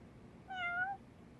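A single short, clean meow from a cat in the video game Lost Judgment sounds in the middle of otherwise quiet ambience.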